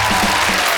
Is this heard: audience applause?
yes